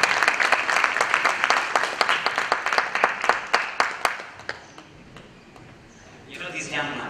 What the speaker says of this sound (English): Clap hands for yourself.